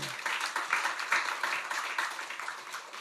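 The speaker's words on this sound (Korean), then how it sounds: "우리 경례 박수하겠습니다" Church congregation applauding after a hymn medley at a Sunday worship service, a steady wash of many hands clapping at moderate loudness throughout, with no talk over it.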